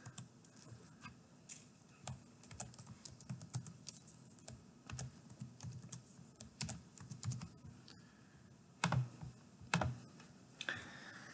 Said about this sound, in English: Let me finish up typing this.